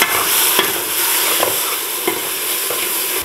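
Onions and tomatoes fry in a pan with a steady hiss and sizzle, while a spoon stirs and scrapes through them in periodic strokes, close up, with no voices.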